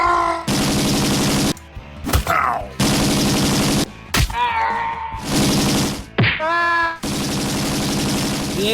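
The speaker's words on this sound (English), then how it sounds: "As we approach the airbase, it's time to activate our machine gun." Rapid machine gun bursts in an arcade-style air combat game against alien invaders, loud repeated blasts broken by short gaps, with laser-like zaps and sweeping electronic effects between them.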